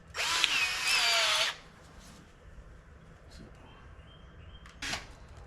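A power drill bores a 1/2 inch hole through a taped-off aftermarket windshield on a Yamaha Rmax, one loud whining burst of about a second and a half, then quiet with a short second buzz near the end.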